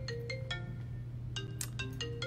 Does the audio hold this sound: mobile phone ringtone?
yes